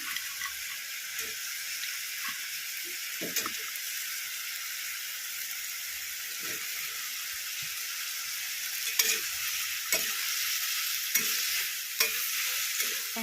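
Fried soya chunks are stirred into a sizzling mixture in a pan for chilli soya. A soft, steady frying hiss runs throughout, with scattered light scrapes and taps of a spoon, fairly quiet.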